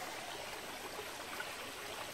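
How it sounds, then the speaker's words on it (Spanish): A river running high with lots of water, giving a steady, even rushing wash with no breaks, moderately loud and heard alone. "hoy el río va más caudaloso, lleva mucha más agüita"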